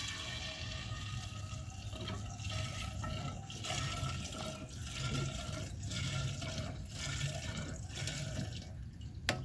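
Non-ethanol 87 octane gasoline is poured into the tank of a vintage mini bike during a restoration. A soft, continuous liquid trickle and gurgle stays fairly quiet throughout, with no speech.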